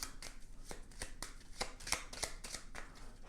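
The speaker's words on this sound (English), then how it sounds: "remove the 4 bomb cards and shuffle the remaining cards" A deck of discovery cards from the board game Harsh Shadows being shuffled by hand, a quiet rapid series of crisp riffling flicks and snaps close to the microphone, with no speech.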